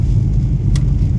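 A classic Rover Mini that had sat unused for over a year, its engine rumbling steadily as the car drives along, a low continuous drone filling the short stretch with a brief brighter hiss midway.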